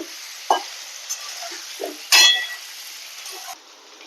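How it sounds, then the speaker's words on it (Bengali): Potatoes sautéed with turmeric powder and salt in a pan while cooking rohu fish curry; a soft continuous sizzle with a few scraping stir strokes and one louder clattering scrape near the middle, no talking. "হলুদ গুঁড়ো লবণ আর হলুদটা দিয়ে আলুটাকে আমি দু তিন মিনিট একটু কষাবো"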